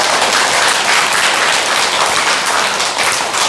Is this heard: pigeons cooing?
no